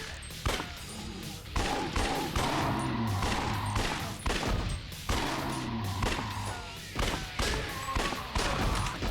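Repeated volleys of gunfire at targets in the Judgment action game, heavy overlapping shots arriving in bursts with brief pauses between, loud and close throughout.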